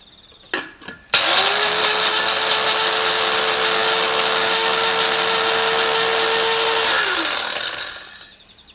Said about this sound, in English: Spice mill is something which is worth having